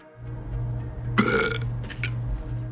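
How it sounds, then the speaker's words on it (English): The MGM lion belches instead of roaring in a spoofed logo opening, one drawn-out burp in the middle over a low steady hum. "The MGM logo appears normal, but the lion belches instead of roars."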